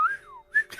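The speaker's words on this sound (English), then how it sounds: "Rick whistled, which I can't do." A person whistles a short tune, a rising then gliding falling note followed by two brief bright whistles, clear and close with no talking.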